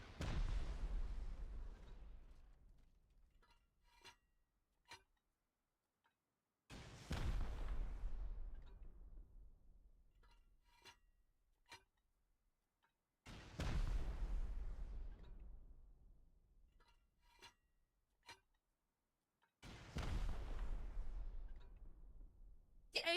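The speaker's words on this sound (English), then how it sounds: "and now I've got to blow even more down. I'm just going to use rockets." Rocket explosions blast at a base in the video game Rust: four heavy booms spaced about six seconds apart, each with a long rumbling decay and crackling debris, with sharp ticks between and no voices.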